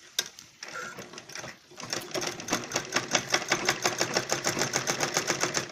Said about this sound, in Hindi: अब इसके ऊपर भी मैं ऐसे ही सिलाई लगा लूंगी पूरे के ऊपर